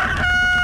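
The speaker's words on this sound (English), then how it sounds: "It's the cockerel from the elf farm." A cartoon cockerel on an elf farm lets out a single loud, close crow, a sustained tonal call filling the whole brief moment.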